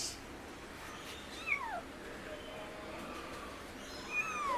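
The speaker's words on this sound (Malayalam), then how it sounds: "ഇതാണ് നമ്മുടെ പൂച്ചൻ്റെ മക്കൾ." Kittens meow in high, thin calls, one near the middle and another near the end, fairly faint against a quiet room background, with soft talk nearby.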